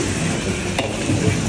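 Ground spices such as coriander and cumin sizzle and are stirred in a pan while cooking down for a black rendang, a steady close frying hiss with soft scraping.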